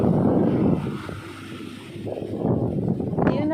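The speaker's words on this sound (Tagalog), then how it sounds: "Kaya lang, ang lakas ng hangin." Strong wind near the sea, rumbling across the microphone in uneven gusts that dip and swell again, fairly close and moderately loud.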